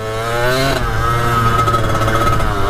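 A Kawasaki KX 80 dirt bike, long unridden and with its clutch needing adjustment, revs loudly close by. Its buzzing two-stroke tone climbs and holds with a slight waver, and no one speaks.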